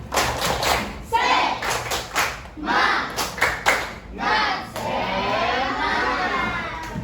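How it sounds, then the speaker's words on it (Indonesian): A class of schoolchildren doing a rhythmic clapping cheer led by their teacher, bursts of quick patterned claps and thuds mixed with shouting, then a sustained noisy stretch of voices and clapping. "Kita tepuk semangat dulu ya."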